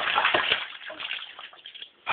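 Water runs and splashes steadily from a tap, a close, continuous gushing wash that thins out briefly before a renewed burst at the end.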